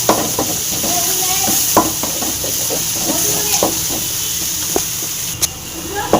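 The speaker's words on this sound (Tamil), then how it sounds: "கொத்தமல்லி போட்டு அதையும் அப்படியே நல்லா ஃப்ரை பண்ணிடலாம்" Coriander leaves fry in a pan for a puri potato side dish, a loud close sizzle and hiss with repeated spatula scrapes and clanks against the pan.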